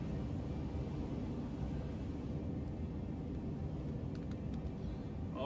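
A game craft thrusts straight up, its engine giving a steady, loud, broadband roar with a deep rumble that holds constant throughout, a few faint clicks near the end.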